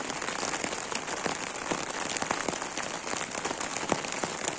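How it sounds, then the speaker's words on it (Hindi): Steady rain patters on a tent roof overhead at a campsite, with scattered heavier drops tapping through a continuous hiss; close and fairly loud, no voices. "बारिश की आवाज आ रही होगी"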